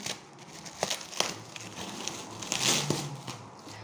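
Crinkly plastic tape crackles and tears in short bursts as a taped cargo package is pulled open nearby, fairly quiet with scattered rustles.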